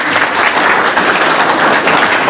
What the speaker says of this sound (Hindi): ताली तो।